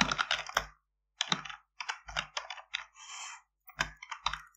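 Someone types on a computer keyboard while entering text in the Nano editor on a Raspberry Pi. The keys clatter close and loud in quick bursts, separated by short pauses.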